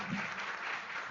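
Audience applause at a team quiz competition in Hall B, steady dense clapping throughout, moderately close with a faint low murmur at the start.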